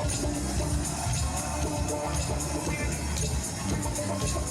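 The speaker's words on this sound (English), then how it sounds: "applause for our band here" A live concert crowd at the Glasgow Barrowland Ballroom applauds and cheers for the band, a loud, dense, continuous roar of clapping and crowd noise filling the hall.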